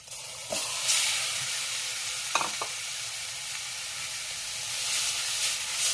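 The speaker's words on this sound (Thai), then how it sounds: "ผัดพริกหอมแล้วใส่เนื้อค่ะ" Beef is stir-fried with pounded dried chili and lemongrass for a Thai om-style stew, a loud, close, continuous hot-pan sizzle broken by a few sharp utensil scrapes and clinks.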